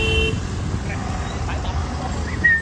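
Dense road traffic in a jam, with a low continuous engine rumble and a short horn toot at the start, heard from inside a vehicle while people talk.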